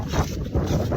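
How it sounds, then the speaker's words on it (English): Strong wind buffeting the microphone while fishing from a boat on a windy day, a loud, continuous roaring rumble with gusting swells and no speech. "But it is really windy out here, so if you can't hear me, I'm sorry."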